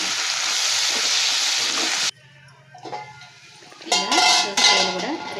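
Cucumber pieces and ginger paste fry together as they are stirred in a pan for a mixed curry with drumstick and tomato; a loud sizzle cuts off abruptly, then stirring clinks and scrapes lead into a renewed sizzle, with no talk.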